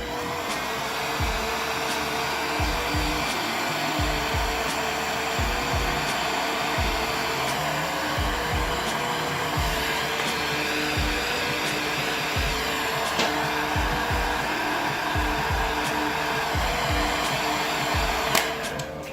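A heat gun blows hot air onto heat-shrink tubing over wires on a budget race car switch panel, a steady close whoosh lasting throughout, with faint clicks and knocks from handling underneath and no talking.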